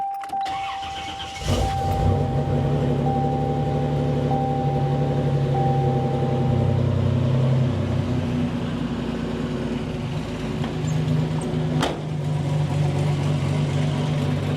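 A 1986 Buick Grand National with its 3.8 L turbocharged V6 cranks and fires up close by, then settles into a loud, steady idle, with a brief sharp blip of revs near the end.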